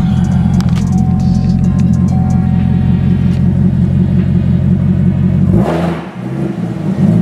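A loud Corvette sports car engine roars steadily up close, building in revs before cutting off into a lower rumble, with no one talking.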